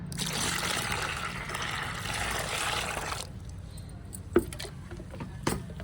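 Liquid fertilizer pours in a steady splashing stream onto the soil of an allamanda plant for about three seconds, then stops, followed by a couple of faint knocks.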